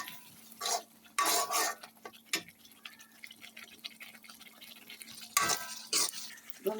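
A spoon scrapes and clanks in a pan while spice masala is sautéed for an egg curry, in a few sharp bursts separated by quieter stretches of soft sizzling.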